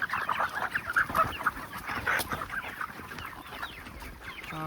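Chickens cluck and call steadily in a poultry farm shed, a dense chorus of many birds, including weak young ones, at moderate loudness with no voices.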